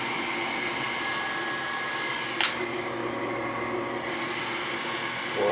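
A Rudd gas furnace blower fan motor running with a steady, loud whooshing drone and hum, a brief clunk partway through, close and continuous with no talking.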